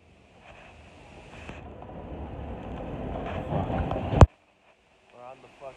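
A New York subway train rides along with a rising rumble and rattle of the car, swelling louder before an abrupt loud clunk cuts it off, followed by near silence and brief faint voices.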